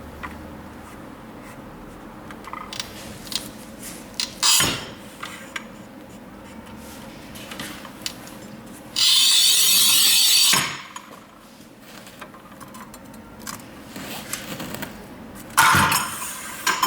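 A Rubi FAST 85 manual tile cutter scores and snaps tile, with scattered clicks and knocks, a sustained gritty scrape in the middle and sharp bursts at the end.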